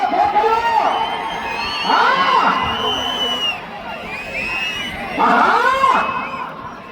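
A large outdoor crowd at a bull event in Mahanandi cheers, whoops and shouts in loud surging waves, with brief bursts of excitement around two and five seconds; clapping is hard to pick out within the roar.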